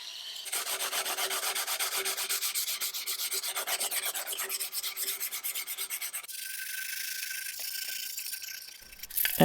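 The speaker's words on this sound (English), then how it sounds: "I can clean up and sand this little thing that was in the back of the seat" Sandpaper rubbing back and forth over a small wooden part taken from the back of a 150-year-old chair seat, a close, steady rasping scrape of rapid strokes that shifts to a smoother rub near the end.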